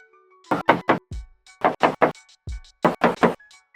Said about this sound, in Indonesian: Kita coba tes ketok untuk kondisi nih bodinya ya.